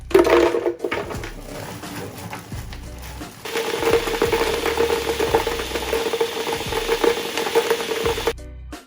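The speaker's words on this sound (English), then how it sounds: "So now we're just going to add some ice to the blender." A blender crushing ice grinds loudly and continuously, with a rough crunching, churning texture that rises after a brief start and stops abruptly.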